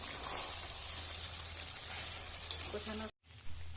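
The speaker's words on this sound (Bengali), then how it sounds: "মাংসটাকে ভালো করে সময় নিয়ে কষিয়ে নিতে হবে" Duck meat sizzles and fries in a pan with previously fried potatoes, a steady crackling hiss with a few stirring clinks, then a brief cut and the sizzle resumes more quietly.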